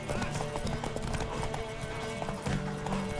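Brief clattering horse hooves from The Witcher 3, a few quick clip-clop beats over background music, with a neigh and voices nearby.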